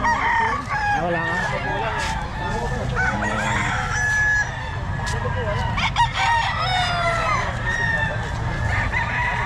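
Roosters crow repeatedly over a bed of chicken clucking and farmyard chatter at a Philippine poultry market, busy and continuous throughout.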